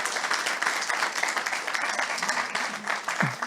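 Sustained audience applause at a fireside chat for Eric Collins, dense steady clapping throughout with no talk over it.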